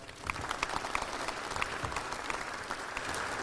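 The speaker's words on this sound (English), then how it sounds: "Let's give them all a round of applause." Steady, dense audience applause for a group of senators at a legislative delegation update in the Monroe Civic Center, with many hands clapping continuously and fairly loudly throughout.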